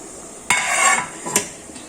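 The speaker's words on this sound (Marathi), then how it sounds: "आता मी त्याच्यावर झाकण ठेवून देते" A metal lid is set down on a steaming pot while taro leaf rolls cook, giving a sharp clank, a brief hiss, and then a second lighter clink, close and loud.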